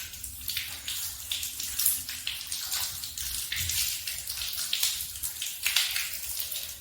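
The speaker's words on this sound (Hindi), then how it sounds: "उसके बाद दाहिने पैर को धोना है इस तरीके से, उंगलियों को खिलाल करते हुए।" Water pours and splashes steadily while the right foot is washed during wudu, a continuous close hissing stream with irregular splatters and trickles, fairly loud and with no talking over it.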